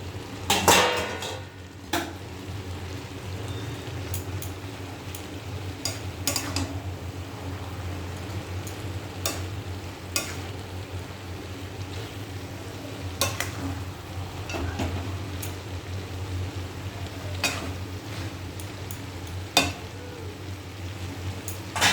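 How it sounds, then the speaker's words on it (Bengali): Cabbage fries in a pan with a soft, continuous sizzle. A lid clinks now and then, and a utensil scrapes and taps against the pan in sporadic strokes, all fairly quiet and close. "এই ঢাকাটাকে তুলে আবার একটু নাড়াচাড়া দিয়ে দেবো।"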